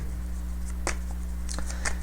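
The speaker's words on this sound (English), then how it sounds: "Shuffle the deck here." A deck of tarot cards is shuffled by hand in a few quick papery bursts, close up, over a constant low electrical hum and with no voices.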